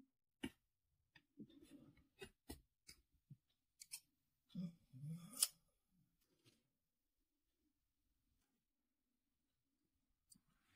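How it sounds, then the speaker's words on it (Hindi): Quiet scattered snips and clicks of scissors cutting crochet yarn while making a woolen outfit, a few short sharp cuts and light handling noises spread apart, fairly close and soft. "यहाँ पे एक चेन बनाकर इसे काट लेंगे"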